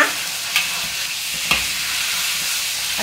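Pork stir-fries in a hot wok for a Teochew glutinous rice dumpling filling, giving a steady loud sizzle with two sharp scrapes of the spatula.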